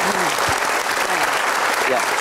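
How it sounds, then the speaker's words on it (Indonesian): Applause from an audience at a talk on self-worth, loud and close, with dense clapping filling the whole moment and a voice briefly audible underneath. "Berkasih tepuk tangan"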